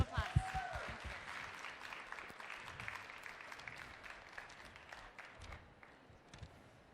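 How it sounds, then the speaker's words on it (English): An audience at a social enterprise pitch event applauds, a dense, fairly faint patter of many hands that thins gradually toward the end. "and a round of applause"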